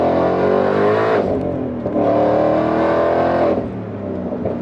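A Whipple supercharged Mustang GT pulls hard after a downshift, its loud engine roaring steadily up through the revs with brief dips at two gear changes, heard from inside the car.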